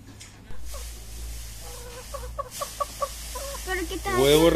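Hens on a farm with cows nearby cluck in a series of short, evenly spaced calls, close and clear over a low steady background hum, growing busier and louder toward the end.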